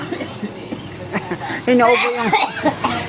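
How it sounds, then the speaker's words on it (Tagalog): A customer at a market stall coughs a few times, a short burst near the middle, with a vendor talking before and after. "Inuubo na yung aking customer."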